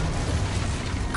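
An Exposo spell blast in Hogwarts Legacy: a loud, brief burst of dense explosive noise that fills the moment up close.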